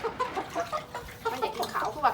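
Chickens cluck and murmur faintly in a rural farmyard, soft irregular calls against low background noise.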